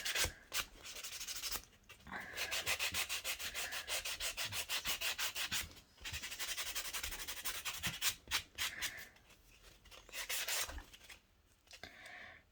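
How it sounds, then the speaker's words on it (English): Acrylic nails being buffed by hand, a steady run of quick rubbing strokes in close bursts with short pauses between passes. "So I'm just going to go in with some buffing right now."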